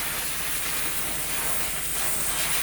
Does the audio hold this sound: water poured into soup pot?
no